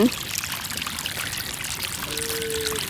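Water pours steadily from a freshly repaired water pump, a close, continuous splashing stream over a few seconds.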